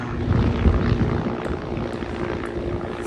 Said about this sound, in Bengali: কোথা দিয়ে একটা হেলিকপ্টার যাচ্ছে